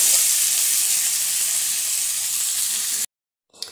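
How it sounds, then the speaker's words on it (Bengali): Potatoes and teasel gourd fry in a pan with a steady, loud sizzling hiss for about three seconds, then the sound cuts out abruptly and a faint sizzle returns briefly. "লবণটা দিয়ে 1 মিনিট ভাজা হয়েছে, আর 2 মিনিট ভাজবো।"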